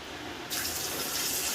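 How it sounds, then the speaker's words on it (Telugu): Water gushes from a tap into a pot of soaked chana dal for payasam, a short steady pour that starts abruptly and continues close by without talk. "కొద్దిగా వాటర్ అయితే యాడ్ చేస్తున్నాను"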